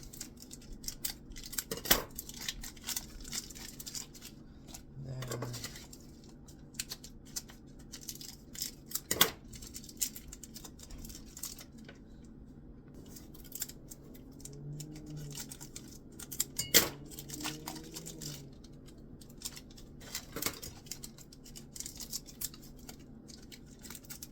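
Scissors snip open Mars bar wrappers in a series of sharp, separate cuts spread through a quiet room, with faint crinkling of wrapper plastic between snips.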